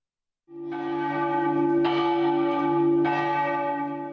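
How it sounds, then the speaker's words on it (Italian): The 14th-century church bell in the leaning tower of Portogruaro, Piazza Duomo, rings out loud and resonant. A steady low hum sustains throughout, with bright clangs at several points. "la campana della torre pendente di Portogruaro in Piazza Duomo, risalente al XIV secolo, suonava per l'ultima volta"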